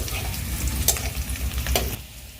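Onion fries in a pan until reddish brown, a steady close sizzle and crackle with two sharp stirring scrapes, the hiss easing off at the end.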